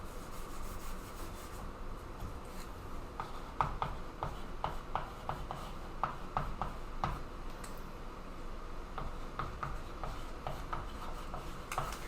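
Math is written by hand on a surface in a faint, continuous scratching and rubbing with brief tapping strokes, close and soft, with no voices.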